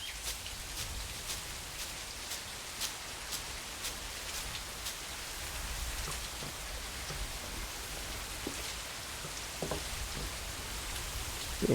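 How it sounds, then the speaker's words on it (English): Steady rain falling in a hunting video game, a dense even patter with scattered sharper drops, moderate and continuous with no talking. "I got the rain to mask me a little bit"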